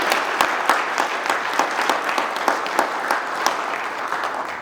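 Audience applause at the Black Hills Stock Show opening ceremony, a steady, fairly loud round of clapping from a crowd with sharp individual claps standing out, lasting throughout without speech.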